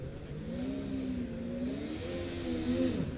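A student autocross race car engine starts and revs steadily, its pitch rising and falling with a strong, close mechanical drone throughout.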